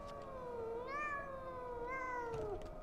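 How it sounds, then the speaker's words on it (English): A cat meows in the video game Pathologic 2, two drawn-out, slightly distressed-sounding mewls in a row, clear and fairly close, with no talking. "Heard a cat over here."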